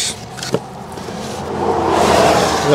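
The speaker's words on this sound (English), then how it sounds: "we're gonna have to excuse the traffic noise here." Road traffic passes close by at the edge of a woodland, a broad rushing wash that swells steadily louder toward the end as a vehicle approaches, with a brief knock near the start.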